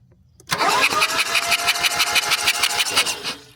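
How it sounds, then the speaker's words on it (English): A car engine with a shredded timing belt cranks over on the starter, a loud, even, rapid whirring chug that runs for about three seconds without catching, close by and alone. "let's give it a crank"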